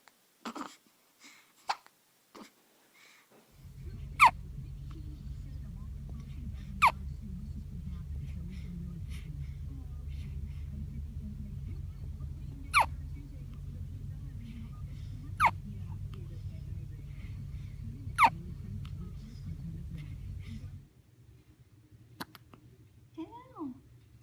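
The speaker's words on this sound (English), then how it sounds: "Do you have the hiccups?" A baby hiccups again and again, with sharp little jolts coming at fairly regular intervals over a steady low background hum and occasional soft voice sounds.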